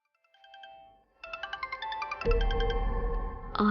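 A mobile phone in a Telugu TV serial rings with an incoming call, playing a bright electronic melody of rapid chiming notes that grows fuller and louder over a few seconds, without talking.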